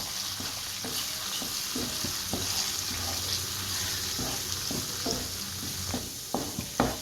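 Masala for beef roast sizzles steadily in a pan while a spoon scrapes and stirs, with irregular clanks and taps growing louder toward the end, close and alone without talk.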